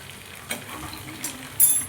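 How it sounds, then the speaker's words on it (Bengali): Chicken pakoras fry in hot oil in a home kitchen, a soft continuous sizzle broken by a few brief clinks and stirring scrapes. "পকোড়া এখানে ভাজা হচ্ছে।"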